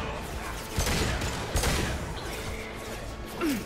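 Impact shot gunfire from the video game Mass Effect 2, heard as a few sharp bursts amid busy in-game noise, with a louder blast near the start and another in the middle.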